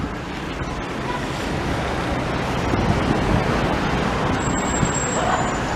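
Steady gusting wind roars across the microphone in Banjul, Gambia, a loud continuous rush with a low rumble and faint background hiss throughout.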